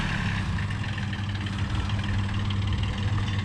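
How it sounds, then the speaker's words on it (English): A tractor engine runs steadily at a low, rumbling idle, a constant mid-level drone with slight vibration and no talking. "I had to show Mom how to drive the tractor."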